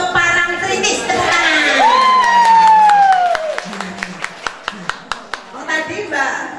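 Audience at a family gathering claps and cheers, with a rising whoop, then a run of distinct, evenly spaced claps; crowd voices and children's shouts mix throughout.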